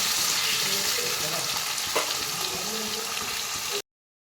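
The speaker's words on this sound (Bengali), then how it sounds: "এবার আমি আলুগুলো ছেড়ে দিচ্ছি।" Potatoes frying in hot oil in a pan after whole spices, for a Durga Puja bhog ash gourd dish; a steady, close, loud sizzle with occasional stirring scrapes, alone without voices, cutting off abruptly near the end.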